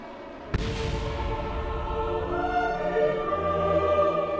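A sudden sharp explosion bursts out during a spacecraft landing in Kerbal Space Program on an airless moon, followed by a ringing, droning tail of mechanical tones that lingers and swells.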